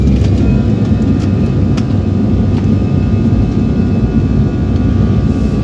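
AirAsia passenger jet engines run on the runway before takeoff, heard from inside the cabin as a loud, steady low roar with a constant hum and no talk.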